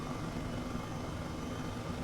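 A helicopter flying in Microsoft Flight Simulator 2020, a steady low rotor and engine drone, moderately loud and unbroken, heard alone without talk.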